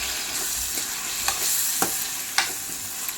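Boiled mushroom curry stirred in a pan over a small flame, soft sizzling throughout with several crisp scraping strokes of the spoon, close and alone without voices.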